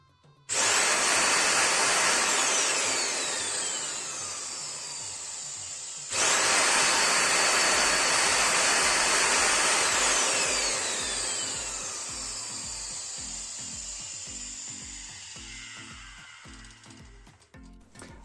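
A loud, high-pitched vacuum cleaner motor whine, just repaired, runs continuously, cuts out briefly, then restarts and gradually winds down with rhythmic low pulsing near the end.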